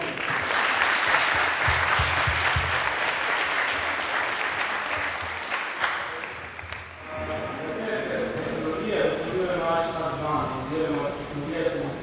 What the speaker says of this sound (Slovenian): En aplavz za Jurika.